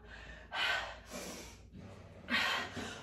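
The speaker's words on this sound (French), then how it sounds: "On est super essoufflé comme ça" Heavy panting after a fast HIIT interval workout: two long, loud breathy gasps with a quieter exhale between, close to the microphone, with no talking.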